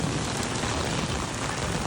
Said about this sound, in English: I'm getting more than the average rainfall